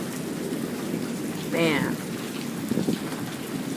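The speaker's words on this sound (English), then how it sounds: "We're still going with this crazy ass storm." Steady rain from a small, fast-passing storm cell at night, a dense continuous hiss with wind, while someone talks briefly over it; no distinct thunderclap stands out.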